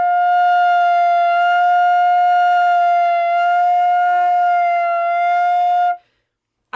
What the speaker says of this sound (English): you can hear a huge difference in the pitch of the note just by where I put my air and my head